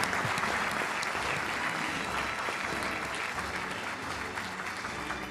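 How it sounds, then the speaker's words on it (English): Sustained applause fills a hall at a Fazaia Ruth Pfau Medical College convocation, many hands clapping steadily and fairly loudly, fading slightly toward the end. "Big hand of applause for Dr. Sana Fatma"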